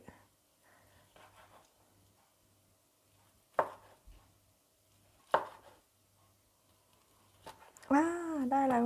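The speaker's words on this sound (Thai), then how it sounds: "แล้วเราก็จะมาตัดตัวนี้นะคะ" A knife cuts sushi ingredients in a home kitchen, giving two sharp, close chops a couple of seconds apart over quiet background, with someone talking at times.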